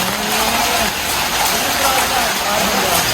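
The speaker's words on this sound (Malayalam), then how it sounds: "നല്ല മഴയുണ്ട്." Heavy rain pours steadily at a resort in Wayanad, a dense continuous hiss close by, with voices faintly underneath.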